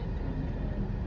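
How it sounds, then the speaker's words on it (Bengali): A train passes close in front at a railway crossing, producing a steady, loud, low rumble that fills the whole moment with no voices over it. "এই যে ট্রেন যাচ্ছে আমাদের সামনে দিয়ে"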